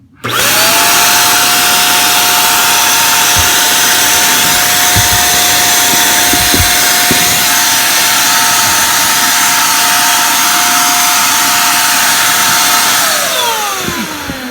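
HomeRight Super Finish Max HVLP paint sprayer, running empty in a crawl space, starts abruptly into a loud steady whine of rushing air with a constant high tone, running on unchanged before winding down at the end.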